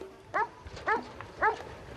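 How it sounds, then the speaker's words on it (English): A Huntaway sheepdog working livestock gives three loud, separate barks about half a second apart, close by, over a quiet outdoor background. "a Huntaway uses their voice and barks to get the sheep to do what they want"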